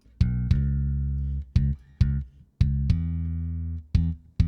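Punchy kick drum hits land in an uneven rhythm, each with sustained low bass guitar notes ringing between them.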